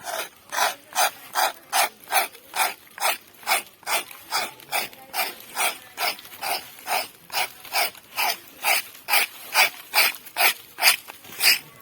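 A hand tool rasps steadily against the old bark of a rubber tree during tapping, about two dry scraping strokes per second in an even, unbroken rhythm, close and clear with no voices.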